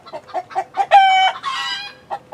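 Chickens cluck in a run of short, close calls, rising into a longer, drawn-out squawk before settling back to brief clucks.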